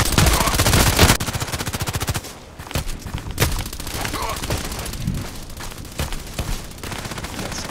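Colt IAR machine gun firing in the Contract Wars shooter game: long rapid automatic bursts, loud and close, broken by short pauses and single shots, with a faint voice now and then under the gunfire.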